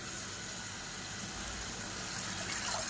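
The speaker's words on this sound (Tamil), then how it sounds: "இப்போ மிக்ஸி அலசிட்டு அந்த தண்ணியை சேர்த்துக்கலாம்" Water used to rinse a mixer jar is poured into a pan of chicken curry with coconut paste. A continuous close gush of liquid sits over the steady hiss of the hot pan, with no voices.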